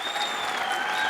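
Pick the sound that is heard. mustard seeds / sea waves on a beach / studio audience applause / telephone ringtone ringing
studio audience applause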